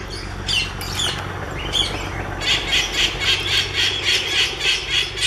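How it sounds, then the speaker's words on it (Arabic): Animal at a wildlife park gives a soft warning call made by vibrating its jaw: a series of rapid, faint rhythmic squeaky pulses repeating over steady outdoor background noise. "شوف الحنك حقه كيف يهتز يطلع الصوت هذا كتحذير"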